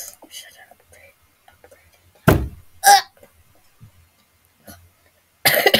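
Coughing from a person, a couple of sharp bursts spaced a few seconds apart, with soft whispery talk and quiet sounds in between.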